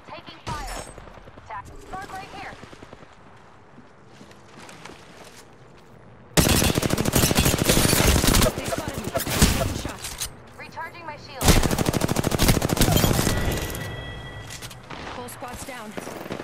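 Gunfire in Apex Legends erupts in two loud, dense bursts of rapid shots, with quieter game sounds and voice lines between them.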